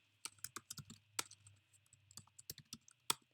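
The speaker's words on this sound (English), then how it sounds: "Don't judge my typing." Typing on a computer keyboard while entering R code, a quick irregular run of close, crisp key clicks with short pauses between bursts, alone over a faint steady hum.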